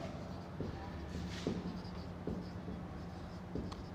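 A pen scratches out a maths question on paper at close range in short strokes, a soft steady scratching that continues under a low hum.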